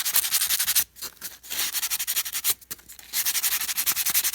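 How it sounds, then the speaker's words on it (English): Sandpaper rubbing around the bottom edge of a plastic glue bottle, a steady close scratchy rasp in quick repeated strokes, with two short pauses partway through. "I'm going to sand around this bottom edge right here."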